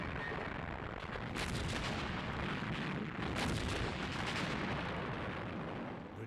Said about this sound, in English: British artillery broke up the assault, and the panzers were quickly halted.